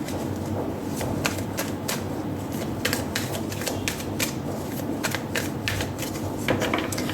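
Tarot advice cards shuffled by hand in quick repeated riffles and snaps, a steady crisp flutter running continuously at close range with no voice.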